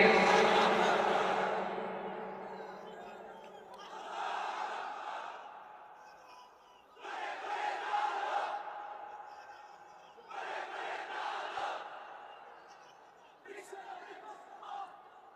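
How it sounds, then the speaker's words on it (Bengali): A large crowd at an Islamic waz gathering chants takbir in loud unison responses, several echoing bursts separated by short pauses, fading out after each call. "তাকবীর পড়েন তো দেখি"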